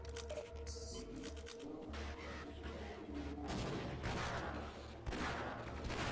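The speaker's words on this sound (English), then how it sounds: "So I'm gonna do a grenade jump right there to skip the start of this section." A grenade-jump explosion in Half-Life, set amid a run of sharp, noisy blasts and gunfire-like bursts, fairly faint overall, with a stronger burst toward the end and no talking.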